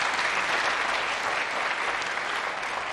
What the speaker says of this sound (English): let's give another warm round of applause to Dr. Japheth Kavinga Kaluyu